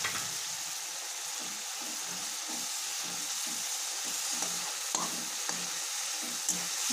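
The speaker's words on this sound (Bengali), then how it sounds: "ভালো মতো এখন মশলা টানা কষে নিচ্ছি।" Bengali spice masala fries in a pan with a constant close sizzle while a spoon scrapes and stirs it in quick, irregular strokes.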